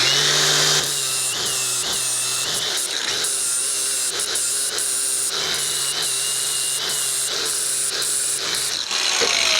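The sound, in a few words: cordless grinder cutting metal, mini bike disc brake conversion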